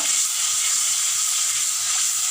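Garlic and ginger sizzle steadily in hot oil in a pan, a continuous close bright hiss that holds level throughout with no voices.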